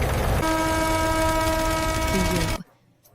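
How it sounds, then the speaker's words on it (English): A loud, sustained horn blast with a steady harmonic tone over rumbling noise holds for about two seconds, then cuts off abruptly into near silence. "sounds his air horn in a final salute to the GPU"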